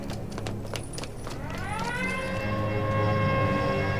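An alarm siren in a wartime action film winds up after a few clanking metallic knocks, rising into a loud, sustained wail that holds steady to the end.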